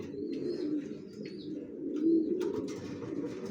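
Racer pigeons, young birds kept for sale, coo in low, throaty murmurs close by, with several overlapping coos swelling and fading across a few seconds.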